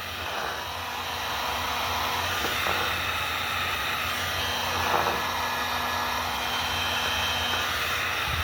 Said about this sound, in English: Take a heat gun, start running around it, and it will just shrink up and hug it like a blanket.